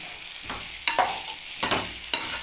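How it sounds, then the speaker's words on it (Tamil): Vegetables sautéed in a pan with chili powder and salt for a simple pumpkin tamarind curry, a steady sizzle broken by four distinct scraping stirs spaced about half a second apart. "மிளகாத்தூள் போட்டு தேவையான அளவு உப்பு போட்டு வதக்குங்க"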